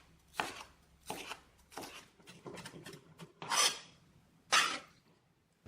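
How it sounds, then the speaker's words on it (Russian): A knife finely chopping a small seeded Roma tomato on a board: a series of distinct, crisp close cuts at an irregular pace, with no talk. "Мелко нарезать."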